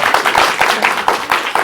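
Studio audience clapping in a talk-show setting, with dense, sustained applause at close range and bursts of hand claps throughout the short stretch.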